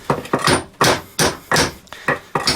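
Repeated hammer blows strike the drive shaft flange on a Volkswagen or Audi transmission CV joint, six or seven sharp, loud metallic knocks in an uneven rhythm, close by, with no talk.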